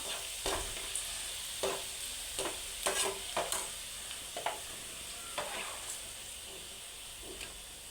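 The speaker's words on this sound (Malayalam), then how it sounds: "ഇതുപോലെ തന്നെ നമുക്ക് ബാക്കിയുള്ള പാവക്കയും കൂടെ ഫ്രൈ ചെയ്തെടുക്കാം" Bitter gourd slices fry in a pan with a soft, steady sizzle, punctuated by a string of light scraping and tapping stirs.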